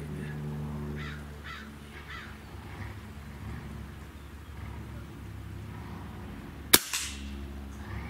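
A Walther Reign UXT PCP bullpup airgun fires once at a white shotgun shell target outdoors, a single sharp crack landing late after a long stretch of steady low background rumble and faint bird calls.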